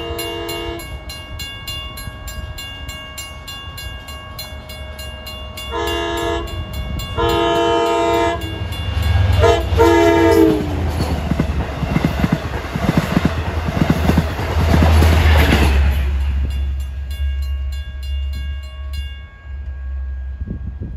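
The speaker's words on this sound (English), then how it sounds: "approaching now is train 78 at 4:38. You'll have DM30AC 518 on the point, which has the best K5LA on the railroad" LIRR DM30AC locomotive 518 approaches on the Long Island Rail Road, sounding its K5LA horn in several loud chordal blasts, short and then long, before the heavy rumble of the passing train builds and fades.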